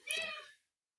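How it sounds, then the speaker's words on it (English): A single short, high-pitched meow from a nearby cat, fading out quickly into silence. "A very active kitty."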